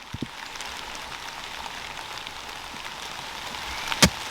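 Light rain pattering steadily on the ground and bare, leafless trees in rocky woodland with pines, a soft, even hiss throughout and one sharper drip or tap near the end.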